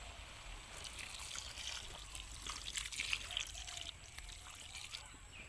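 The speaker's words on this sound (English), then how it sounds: "we put some water." Water poured into corn cooking in a pot in a rural village kitchen, a steady faint trickle and splash running for several seconds under a low hiss, with no voices.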